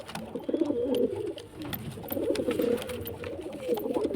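Pigeons of a black-throated breed, kept as a male and female pair, coo in soft repeated throaty phrases, close by and clear, with only slight background noise.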